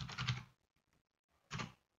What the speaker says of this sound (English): here I'm typing the command MySQL hyphen hyphen version